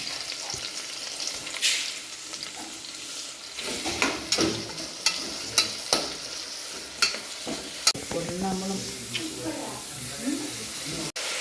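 Sliced onions fry and get stirred in a pan while cooking chicken stew, a steady sizzle broken by sharp scraping clicks of the spoon, close and fairly loud, with a voice speaking now and then.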